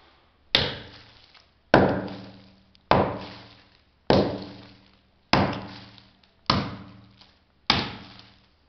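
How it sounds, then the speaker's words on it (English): Brick wall being hammered through: seven heavy, evenly spaced blows about a second apart, each a sharp close impact with a short ringing decay, and no voices. "we have to hammer through it"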